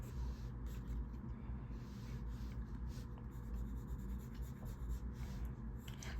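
Mitsubishi colored pencil drawing repeated horizontal and vertical lines on paper, a close, quiet scratching with rhythmic strokes over a steady low background hum.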